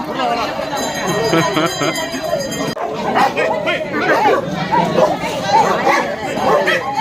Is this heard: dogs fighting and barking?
yes